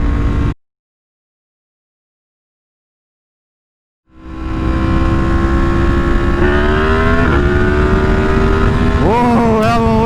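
After a sudden cut to silence, a Yamaha MT10 motorcycle engine rumbles in close and loud during wheelie practice, holding a steady drone before the revs climb sharply near the end.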